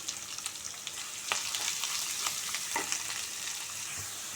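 Mustard seeds, chana dal, green chillies and onion crackle and sizzle steadily in hot oil, a continuous bright hiss with small pops and a few scraping stirs, no voices.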